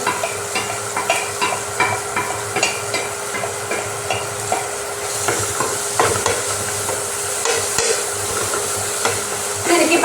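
Curry paste with turmeric powder sizzles and fries steadily in a pan while a utensil stirs and scrapes through it in repeated, close-up strokes.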